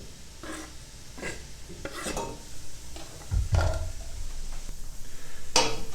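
Chopped kale and cabbage tossed into a pot and stirred, producing soft thumps, rustling leaves and metallic scrapes and clinks against the pot, with a louder clatter partway through and faint sizzling underneath.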